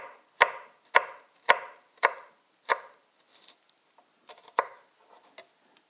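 A kitchen knife chops shallots on a board in about five sharp, evenly spaced strokes, followed by softer, quicker taps and scrapes, close and clear with no voices.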